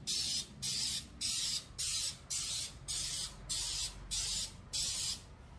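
A spray bottle pumped about ten times onto hands in a steady rhythm, each spritz a short hissing burst, close up with no talking.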